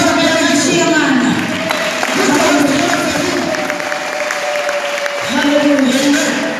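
Congregation applauding during a lively church sermon, loud sustained clapping and crowd noise with a voice talking over it in bursts.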